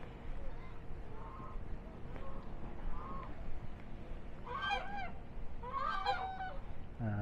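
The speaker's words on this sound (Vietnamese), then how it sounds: "Tiếp tục tôi lại quay ba chú ngỗng." Three geese beside a wide lake let out a couple of loud, close honking bursts near the end, following quieter outdoor ambience with faint calls.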